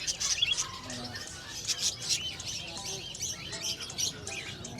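Many birds chirp and tweet continuously at a busy pet bird market in Bocaue, with dense overlapping calls, occasional wing flutters and faint background voices.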